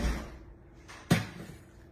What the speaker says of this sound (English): I can hear my husband coming in the front door